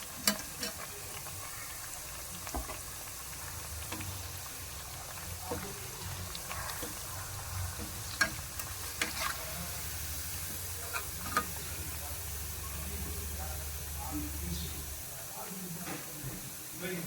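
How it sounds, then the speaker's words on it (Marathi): Kothimbir wadi, a Maharashtrian coriander fritter, frying in hot oil, giving a steady close hiss and sizzle with occasional crackles throughout, while a person talks over it. "तेल व्यवस्थित त्यातलं गाळून घ्याल, हे तळू द्यात, नाहीतर मग ऑइली लागतील"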